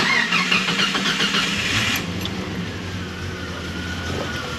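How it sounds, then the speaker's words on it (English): A car engine cranks with a rapid, rhythmic churning over the first two seconds, then settles into a steady, lower running idle nearby. "I have not cranked it, maybe it'll crank."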